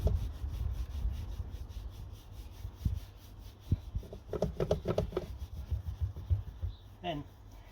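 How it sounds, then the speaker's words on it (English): Farecla G3 Pro scratch remover is rubbed into car paintwork with straight up-and-down and side-to-side strokes, giving soft, close, irregular friction swishes with occasional faint knocks. "Don't want to do circles because it'll leave swirls in the paintwork, so just up and down, left and right."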